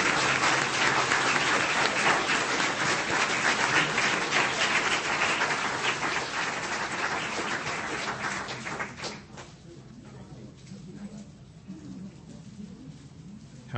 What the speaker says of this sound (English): let's give these folks a huge round of applause.